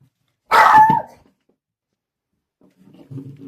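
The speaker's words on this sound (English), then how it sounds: "Sorry for that bark from Tucker." A single loud, close dog bark bursts out near the start, then quiet, followed by faint low rustling and soft indistinct sounds toward the end.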